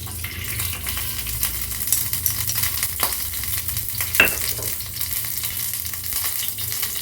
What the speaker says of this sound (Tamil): நெய் விட்டுட்டு இதில் முந்திரியை போட்டு நல்லா வறுத்துடலாம்